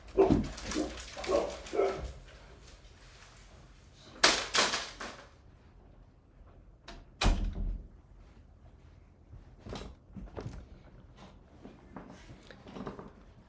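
A dog barks and whimpers in bursts around a home office, sharp yelps breaking through between quieter whines and soft household rustling, fairly close.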